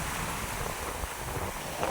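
Sea waves at San Fabian beach in Pangasinan, a continuous rushing surf mixed with wind buffeting the microphone, close and steady with no voices.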